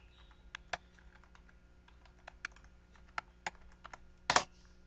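Someone types a password on a computer keyboard, a sparse run of single key taps close by in an uneven rhythm, ending in a firmer double press.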